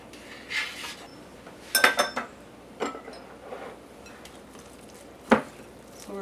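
A spoon working through a meatball mixture of ground beef, egg and small onion in a bowl for 1975-style Swedish meatballs, giving a few intermittent scrapes and clinks against the dish with soft squelching between.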